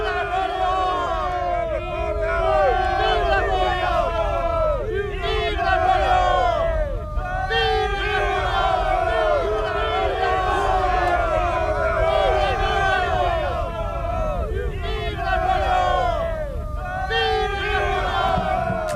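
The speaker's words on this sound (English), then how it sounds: "thousands are lighting torches, the now famous bivouac fires of Austerlitz, and cheering, "Vive la France!"" A large crowd of soldiers on the eve of Austerlitz cheering "Vive la France", rhythmic repeated shouted chants in massed voices, loud and sustained with brief pauses between bursts.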